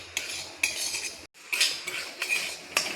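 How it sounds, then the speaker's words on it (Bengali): Semolina dry-roasted in a dry wok, stirred with a metal utensil: a quick run of close, bright scraping and clinking strokes with a brief gap midway, and no talking. "অনবরত নাড়াচাড়া করে সুজিটা একটু ভেজে নেব"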